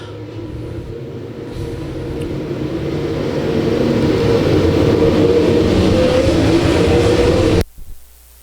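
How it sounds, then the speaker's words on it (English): Super stock race cars roar around a dirt oval track in a steady, swelling engine rumble that builds as the pack passes close, then cuts off abruptly. "Cars at the back of the field still racing side by side for position."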